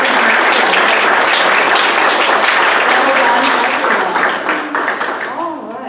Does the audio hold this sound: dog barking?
no